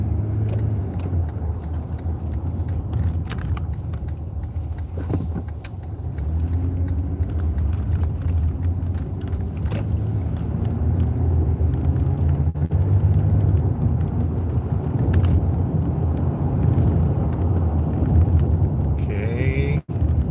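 Steady low road rumble and engine drone inside a moving car on the commute to work, continuous and fairly loud, with occasional faint clicks and a brief rattle near the end; a voice talks now and then.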